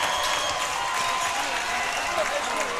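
Home crowd at a Lawrence County High School versus Page School men's basketball game cheers and applauds steadily in a dense, continuous wash of sound with no clear breaks.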